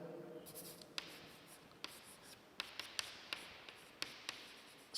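Faint strokes and sharp taps of writing on a board, spaced irregularly across a quiet room with no talking.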